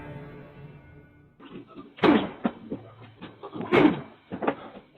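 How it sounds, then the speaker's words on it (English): A man repeatedly slams himself into the front door of a house, giving two heavy thuds about two seconds apart amid smaller knocks and bumps, recorded on a doorbell camera with a voice talking over it. "repeatedly slamming himself into the front door of a house."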